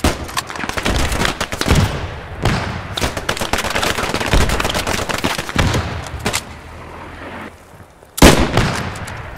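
Rapid close gunfire in Post Scriptum, a World War II shooter, during close-quarters fighting around buildings at Arnhem, with dense bursts and single shots, a brief lull, then a sharp loud shot near the end.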